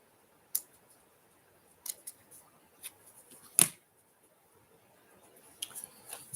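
Scissors trimming off a piece of glued craft material, heard as a few faint, sharp snips spread apart against near silence, with one louder cut in the middle.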